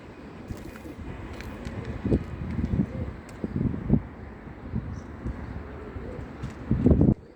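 Tumbler pigeons flying outdoors in the wind, with soft cooing and a few low fluttering bursts of wingbeats against a steady wind rumble on the microphone.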